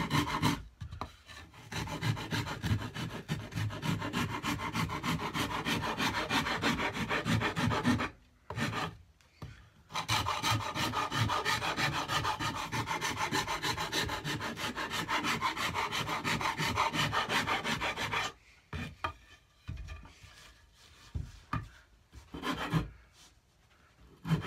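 A rasp shapes the wooden neck of a cigar box guitar in steady, rapid, close-up strokes, a loud continuous grating with two short pauses and slower, broken strokes near the end.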